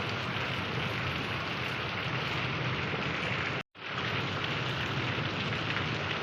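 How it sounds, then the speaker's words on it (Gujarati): Heavy, steady rain pours down as a dense continuous hiss, broken by one brief cut near the end. "બહુ સરસ મજાનો માહોલ છે વરસાદનો"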